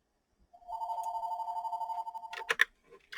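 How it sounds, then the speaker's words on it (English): An electronic telephone ring, one sustained warbling trill for about a second and a half, steady and clear in a quiet room, then cut off by a short clatter. "No, I'm not going to answer the phone"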